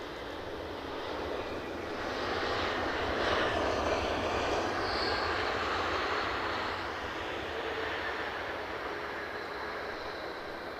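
A British Airways Airbus A321 arrives at Edinburgh, a moderately faint, steady jet rumble and whine that swells in the middle and eases slightly toward the end, with no talking.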